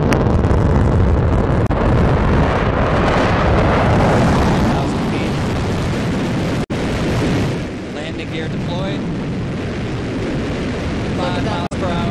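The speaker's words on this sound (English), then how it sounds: "Another picture-perfect landing for the New Shepard rocket booster." Blue Origin's New Shepard rocket booster descends for landing with its engine relit, a loud, steady broadband roar that fills the whole clip, mixed with wind buffeting on the microphone and brief distant voices near the end.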